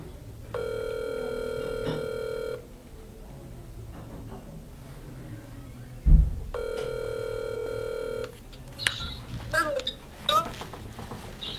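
Ringback tone on a phone call: two long, steady buzzing bursts a few seconds apart, with voices talking quietly in the background before a louder thump.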